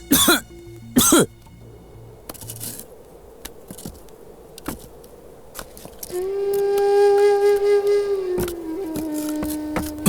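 A man coughs hard twice in quick bursts at the start, followed by quieter scrapes and clicks and then a sustained tonal drone in the background of a film scene.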